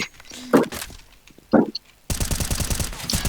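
Gunfire in the video game CS:GO: a couple of heavy single shots, then a rapid, steady automatic burst, loud and close, with faint voices in the background.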